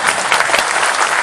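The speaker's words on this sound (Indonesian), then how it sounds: "Lha tepuk tangan sing banter kan semua." A dense burst of audience clapping fills the hall, loud and steady throughout, with a faint voice barely present beneath the applause.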